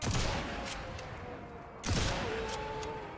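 Two sharp sniper rifle gunshots in Sniper Elite 5 ring out, one at the start and another near the two-second mark, over a busy background of in-game ambience.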